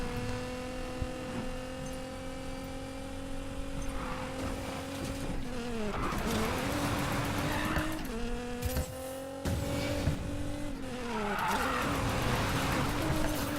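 Racing game car in NFS Payback, a steady loud engine drone with rising and falling pitch through gear shifts, plus tire squeal and skidding in corners, continuous throughout.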